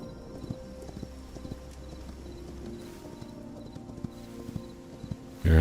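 Horse hooves clip-clop at a steady walking pace in the game Hytale, a series of moderately close, evenly spaced hoof knocks, ending with a brief louder burst at the very end.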